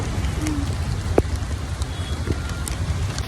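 Steady light rain patters on surfaces in a continuous hiss, with a soft low rumble underneath and no talking.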